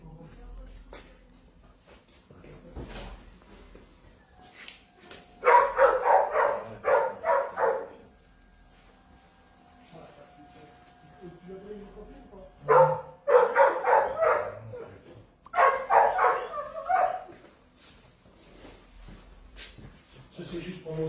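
A house dog waiting for the mail barks indoors in three separate bursts of rapid, close barks. Quieter pauses fall between the bursts.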